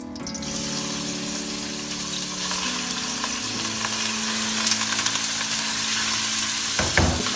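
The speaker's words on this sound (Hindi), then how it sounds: "ये अच्छे से फ्राई हो रहा है" Chicken fries in two tablespoons of oil in a kadhai, a loud continuous sizzle with some watery bubbling and a sharp clatter near the end, close up.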